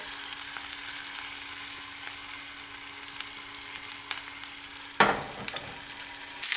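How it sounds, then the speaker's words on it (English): Lamb riblets sear in a hot pan with a steady broadband sizzle, and a sharp louder crackle bursts out around the five-second mark before easing back to the constant hiss. "Just want to give it an outside sear."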